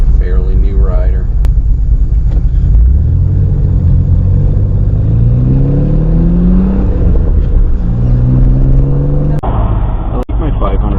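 A $500 Pontiac Fiero GT is driven around town, its engine rumbling low and steady with a few rising revs as it pulls away. Voices talk over the engine noise inside the car.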